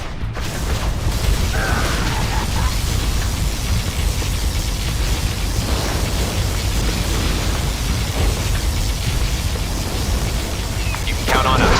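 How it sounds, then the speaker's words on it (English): In the C&C Generals Zero Hour video game, a particle cannon fires as a loud, continuous, roaring wash of noise with rumbling booms throughout, while in-game voices are heard over it. "Particle cannon activated."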